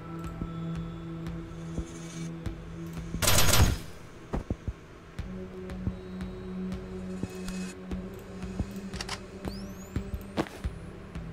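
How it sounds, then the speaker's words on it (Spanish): Gunfire in the turn-based tactical game Tactical Breach Wizards, one loud burst of shots standing out over a steady game music bed with scattered interface clicks and thuds, no voice. "Y ahora este tiene un disparo gratis."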